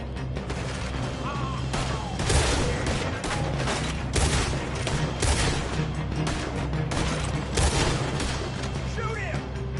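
Gunfire in the Red Dead Redemption 2 video game, with dense, continuous shots and booms filling the clip and voices shouting under the shooting.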